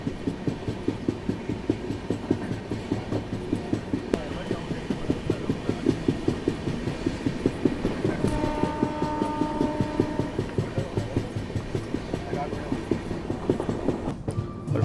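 A Subedarganj–Dehradun Express pulls into Haridwar railway station with a steady, loud rumble and rhythmic wheel clatter. A sustained horn-like tone rises midway through the approach.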